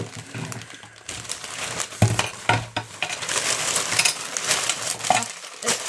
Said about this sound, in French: Alors, je vais enlever mon papier.